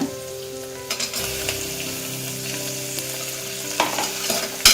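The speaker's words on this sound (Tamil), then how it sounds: "இப்போ இதோட தக்காளி போட்டுக்கலாங்க" Tomatoes sizzle and hiss steadily in a hot pan of corn kichadi while a spoon stirs and scrapes through them, close and fairly loud, with no voices.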